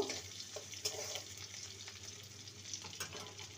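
Three chopped green chillies being stirred in a frying pan, a faint continuous sizzle with a few soft spatula scrapes, close but quiet.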